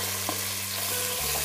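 Sliced large onions, green chillies and a bay leaf fry in hot oil in a pan for chicken biryani, a steady close sizzle with faint stirring scrapes, no voices.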